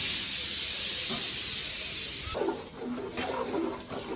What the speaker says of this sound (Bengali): ওই যে কুকারের হচ্ছে মাংস রান্না করতেছে